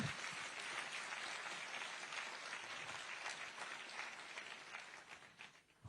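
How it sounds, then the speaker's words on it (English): An audience of Indian students and scientists at a prestigious hospital event in New Delhi applauds steadily and fairly densely for several seconds, the clapping fading slightly toward the end. "you can give a round of applause for that"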